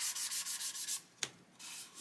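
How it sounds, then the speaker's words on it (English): A fine 1500-grit sanding stick rubs back and forth over soft paint on a mask in quick, even strokes. The rasping is close and quiet, pauses briefly after a single tap, then carries on. "I'm going to use a 1500 sanding stick"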